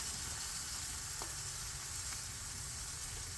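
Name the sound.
oil sizzling on a Blackstone griddle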